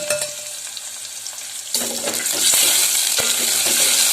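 Chopped onions hit a hot pan and are stirred while frying. A quiet, faint start gives way to a sudden loud, steady sizzle with scraping stirs, close by, with no talking.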